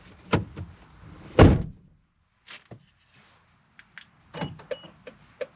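Car driver's side door opened with a click and then shut with a solid thunk, followed by scattered faint clicks and latch sounds, all close and brief.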